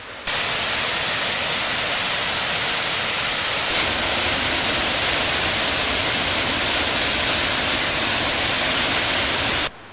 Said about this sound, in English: the dam lake, spills into the creek here. It's the waterfall way up over there